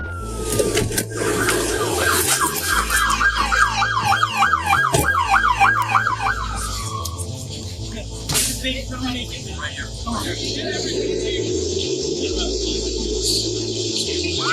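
Police and ambulance sirens wail in rising and falling sweeps at a chaotic crime scene for several seconds, then fade, leaving background noise and a low hum behind.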